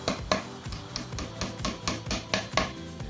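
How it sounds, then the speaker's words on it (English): Rubber hammer tapping metal cross shelf pins into the holes of an IKEA KALLAX shelf, a run of about ten evenly spaced, close, crisp knocks with faint rattling between them. "Rubber hammer will prevent damaging this plate."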